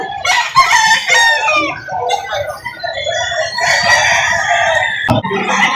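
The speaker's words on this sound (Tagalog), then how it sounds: "Gandang manok niya." Chickens and roosters at a poultry market in Lipa City, Batangas, crowing loudly and close, with overlapping cock-a-doodle-doo calls and scattered clucking, plus a brief sharp knock near the end.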